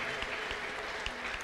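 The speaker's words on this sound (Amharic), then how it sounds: "ለጌታ ከፍ ያለ እልልታና ጭብጨባ አምጡ እስቲ" Church congregation applause sounds as a faint, steady wash of hand claps with a few sharper claps standing out, quiet and distant throughout.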